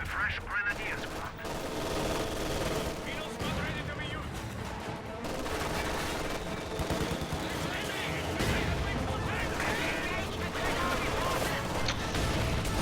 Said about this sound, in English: So much mortar fire.